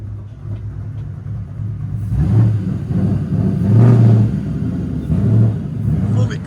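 A 2012 Audi TTS with a 2.0L turbo engine and a Vibrant resonator exhaust idles with a low rumble, then revs in three rising, swelling bursts, loud and close.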